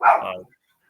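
A dog gives a single short, loud bark close by, which fades quickly into near silence.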